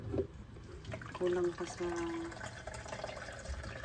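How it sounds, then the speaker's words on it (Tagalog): Water poured onto bean sprouts while making togue, a soft trickling and splashing heard close by beneath a person talking. "Ato na siya butangan og tubig kasi kulang pa siya sa kuan."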